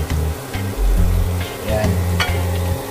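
Whole and crushed black peppercorns fry in hot oil at the start of Visayan-style halang-halang, giving a close, steady sizzle with a low hum underneath and a few faint clinks.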